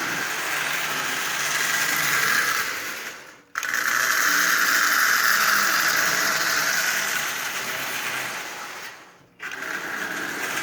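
A repaired Marx 595 toy train locomotive runs with a steady mechanical whir and gear rattle, close and even, broken by two brief near-silent drops.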